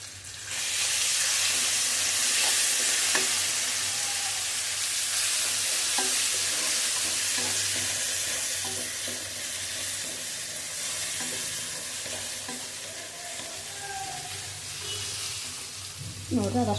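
Oil sizzles steadily in a pan after turmeric powder and salt go in, a loud, continuous frying hiss with faint clinks of stirring and no talking.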